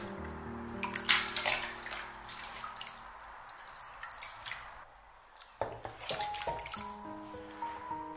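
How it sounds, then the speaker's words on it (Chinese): Raw lamb being rinsed under running tap water in a kitchen, a steady close splashing stream with drips, briefly quieter midway before the flow picks up again. "用流动的清水多给它冲洗几遍。"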